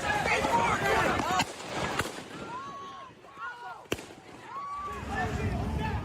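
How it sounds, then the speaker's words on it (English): A gunman lying on the ground in a street fires a few sharp, separate gunshots that crack out over shouting voices and street noise. "From the ground, he opened fire."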